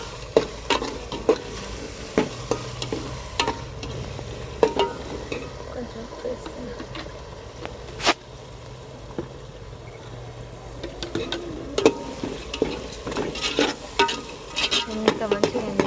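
Tomatoes fry in oil for a fish curry, with a continuous close sizzle broken by frequent sharp clicks and scrapes of a utensil stirring the pan.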